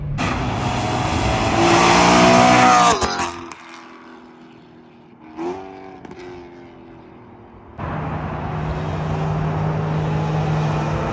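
A BMW E92 M3 fitted with a Valvemaster full catback exhaust revs hard and loud up close, drops to a low idle with a brief blip, then settles into a steady, throaty rumble.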